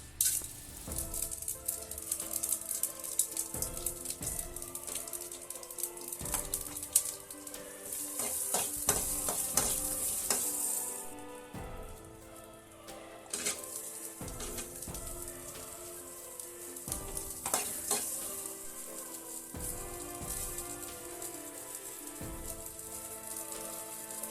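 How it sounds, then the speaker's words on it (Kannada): Coriander leaves, tamarind and dried red chillies fry in a spoonful of oil, stirred in regular scraping strokes over a crackling sizzle that comes and goes in bursts, close and unaccompanied by talk. "ಇವೆಲ್ಲವನ್ನು 1 ಸ್ಪೂನ್ ಎಣ್ಣೆ ಹಾಕಿ ಹುರಿದುಕೊಳ್ಳಿ"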